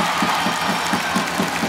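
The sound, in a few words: warm applause from crowd at Norway-Greece match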